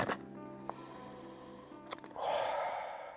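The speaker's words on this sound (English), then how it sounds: "If I open this one up right now and give this one a sniff" A person sniffing irradiated Black Cherry Punch cannabis flower, a faint breathy inhale rising into a longer airy sniff at the end, close to the microphone and without talk.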